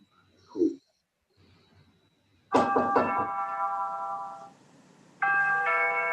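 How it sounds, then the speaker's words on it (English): A home doorbell rings out in two loud chiming bursts, the first ringing on for about two seconds and the second starting after a short pause, following a brief breath or snort. "That's somebody's doorbell?"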